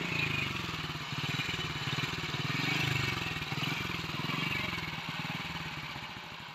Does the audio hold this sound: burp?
no